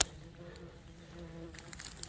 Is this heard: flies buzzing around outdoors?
yes